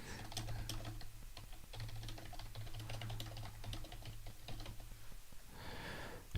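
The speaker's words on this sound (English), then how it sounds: "I have to type, and so I can't talk." Rapid, uneven typing on a computer keyboard fills the whole stretch with dense, close clicks and key taps, broken by a brief louder burst near the end; nobody speaks.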